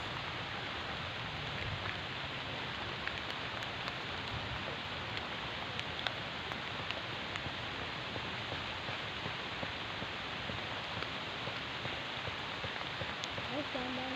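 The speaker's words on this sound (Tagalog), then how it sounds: "ang lakas ng ulan" Steady heavy rain pours down in a dense, even hiss that fills the whole stretch without pause.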